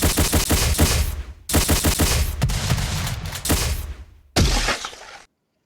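Bursts of rapid gunfire effects representing Warhammer 40K bolt rounds, several loud volleys of sharp cracks separated by short silences, the last burst cutting off abruptly.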